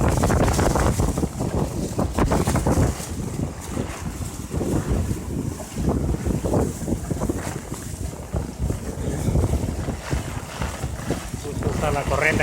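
Storm wind gusts hard over the Cancún shoreline with rushing, churning water, a loud, continuous roar of wind buffeting the microphone that never lets up.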